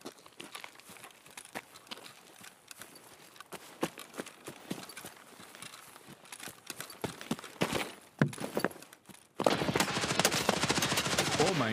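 Rapid bursts of gunfire from a first-person shooter video game, sharp staccato shots scattered across the scene, then a loud continuous volley near the end, with players' voices faintly in between.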